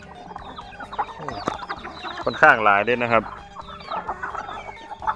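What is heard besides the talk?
Thai native chickens clucking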